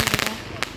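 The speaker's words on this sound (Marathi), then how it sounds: "सर्वजण बाहेर मस्त रात्रीच्या 10 वाजता सर्वांनी फटाके फोडलेले आहे." Firecrackers burst outdoors at night during Bhaubeej celebrations, with a quick run of sharp cracks followed by a single louder pop, and faint voices underneath.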